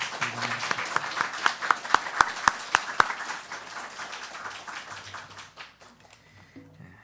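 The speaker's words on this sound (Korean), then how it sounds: "우리 박수로 잠깐 환영하겠습니다" A church congregation claps in welcome for a visiting pastor couple during a Sunday service, a burst of many hands with several sharp, distinct claps standing out before the applause fades away.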